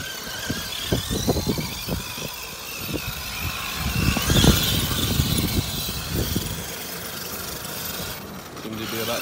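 An ARRMA Kraton 8S RC truck with a modified center differential drives and turns, its electric motor whining and squealing in repeated short bursts over a rough, gritty background, loudest in the middle and easing off near the end.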